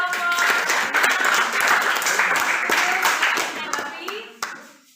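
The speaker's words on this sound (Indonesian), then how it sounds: "tepuk tangan untuk kelompok." A school class claps for a group of students who have just presented a miniature submarine project, a dense burst of applause that fades toward the end, with children's voices mixed in.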